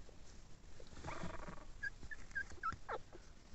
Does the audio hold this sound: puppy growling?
yes